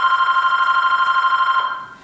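Telephone ringing steadily in a quiet painting studio, a continuous electronic bell with rapid warbling pulses that holds even and loud, then fades away over the last half second; no one speaks.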